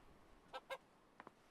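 Two short clucks from a hen, then two fainter ones, come from The Hand of Glory video game, brief and quiet over a soft background.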